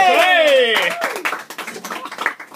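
Clapping from an audience at a live music club in Koenji, Tokyo, with a dense burst of hand claps early on giving way to scattered, uneven claps while a person keeps talking over them.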